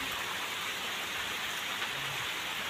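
Heavy rain pours down steadily outdoors in rural Odisha, a dense, even hiss that holds at constant loudness throughout with no voices.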